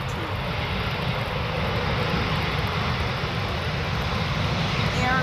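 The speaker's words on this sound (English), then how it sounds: "this one is yet another special landing coming in from Air Dolomiti, coming in from Frankfurt to Amsterdam. It's an Embraer E190" Air Dolomiti Embraer E190 jet landing at Amsterdam Schiphol on the Polderbaan, a steady broadband engine roar that builds slightly as it passes, with someone commentating over it.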